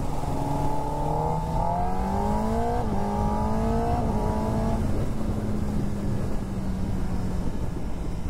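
A 2025 Kawasaki ZX10R superbike on a night ride, its engine note climbing in pitch through a gear change and then settling, heard close under steady wind roar, no talk.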